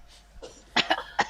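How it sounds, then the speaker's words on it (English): A man gives three sharp coughs in quick succession, close and fairly loud, after a faint murmur at the start of a quiet indoor recording. "A slight cough there."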